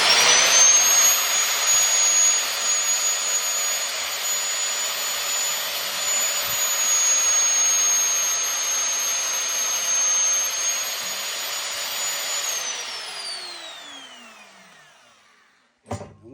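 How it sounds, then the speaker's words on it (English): An electric drill boring through steel plate roars in a long, loud, steady whine that holds for over ten seconds, then winds down and fades out. "then you can continue to drill through"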